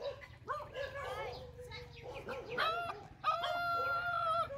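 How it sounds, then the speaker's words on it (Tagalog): Several dogs bark and whimper close by, overlapping in quick bursts, with a voice speaking underneath and birds faintly in the background. "May aso tayo pala dito mga kababayan."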